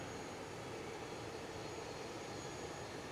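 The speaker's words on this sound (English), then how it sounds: "It's just sort of quite low over the bay there. That aircraft." A low-flying aircraft passes over the bay near Nagasaki Airport, heard as a faint, steady, distant engine roar with no other sounds on top.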